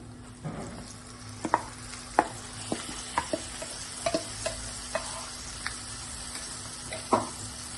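Spoon clacking against a pan as chutney is stirred into fried ridge gourd, a string of sharp taps over a low, steady sizzle with no talking.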